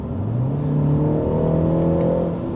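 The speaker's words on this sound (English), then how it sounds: "you can hear that turbo spool up" A 2025 MINI Cooper accelerates hard, its engine note rising steadily as the turbo spools up, loud and close from inside the cabin with no talk.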